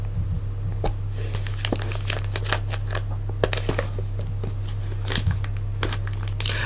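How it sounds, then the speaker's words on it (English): Scissors snip through the sealed plastic packaging of a Lord of the Rings Crossbowman Uruk-hai action figure, a run of close, crisp cuts and crinkles over a steady low hum. "utilize this nifty pair of scissors to sever the seal that holds the packaging together"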